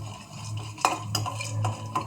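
A spoon stirs and scrapes through mustard seeds and lentils in hot oil in a pan, with light clinks and a soft sizzle underneath, close up.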